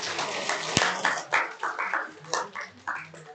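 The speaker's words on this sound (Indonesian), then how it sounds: "tepuk tangan untuk mereka" A small classroom audience of students claps for two storytellers in a short, uneven burst. A sharp single clap stands out near the start, and the clapping thins out into scattered claps.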